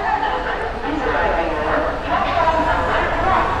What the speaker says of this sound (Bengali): আমাদের ট্রেন কিন্তু ছেড়ে দিয়েছে।